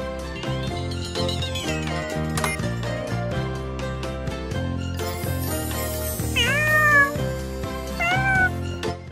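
A few high, sliding cartoon kitten meows from a children's cartoon song ring out over bouncy background music with a steady rhythmic beat.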